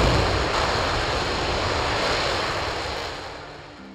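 A NASA moon rocket engine test firing at Stennis, burning liquid hydrogen and liquid oxygen, a loud broadband roar that holds steady and then begins to fade, with no voices.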